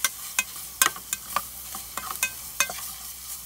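Ham sizzles in a pan, cooked on a camping stove, with soft frying crackle broken by a series of sharp scraping and stirring clatters at irregular intervals.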